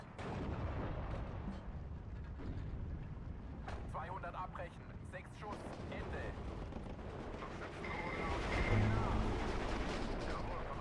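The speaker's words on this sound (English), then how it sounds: "One of these is just getting mortared to death. They have so many mortars" Mortar and artillery fire rumbles continuously through a Steel Division 2 battle, dense booming blasts layered over one another at steady loudness, with a voice talking over the barrage.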